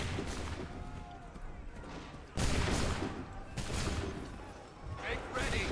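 Musket volleys boom in Assassin's Creed III Remastered, several loud, ragged bursts of massed gunfire rolling over a noisy battlefield din, with a shouted voice in between.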